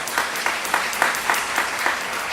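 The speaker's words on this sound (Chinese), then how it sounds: "我们拍手来欢迎" A church congregation at a Lunar New Year thanksgiving service claps together in a brisk, even rhythm for a couple of seconds to welcome a first-time visitor, the claps moderately loud and evenly spaced.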